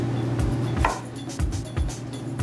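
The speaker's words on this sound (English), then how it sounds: "I'm just chopping off the extra stems here" A knife chops extra stems off broccoli on a cutting board. Several dull, evenly spaced knocks sound close by, with no voice.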